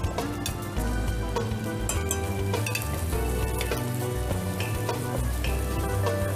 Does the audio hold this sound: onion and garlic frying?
yes